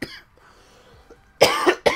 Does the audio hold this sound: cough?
yes